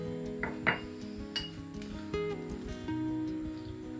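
Coarse salt tipped into a pestle and mortar as a rub for a pork joint is being prepared, giving a few small clinks and rattles against the bowl over steady background music.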